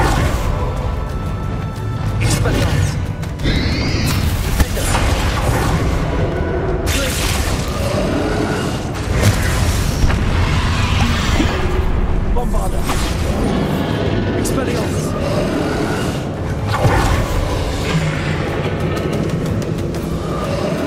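Bombarda spell explosions in Hogwarts Legacy: loud booming blasts and crashing debris recur over a dense, continuous battle din of rumbling effects and music, with a voice calling out between blasts.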